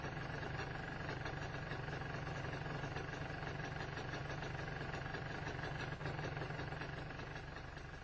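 A 1989 MZ ETZ 250 two-stroke motorcycle engine idles at about 1,300 to 1,500 rpm, giving a steady, even mechanical drone with a fine rapid pulse, close and continuous with no talking.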